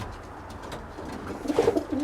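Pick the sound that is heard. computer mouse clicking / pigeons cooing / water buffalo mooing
pigeons cooing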